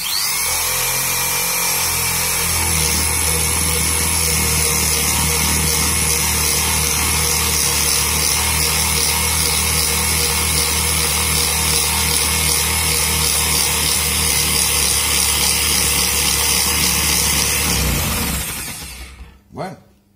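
Cordless power drill boring steadily into tropical hardwood, a loud continuous whine held for about seventeen seconds before winding down and stopping with a brief final burst.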